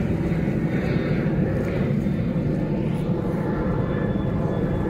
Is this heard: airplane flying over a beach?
yes